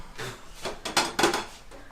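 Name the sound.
dishes being handled while drying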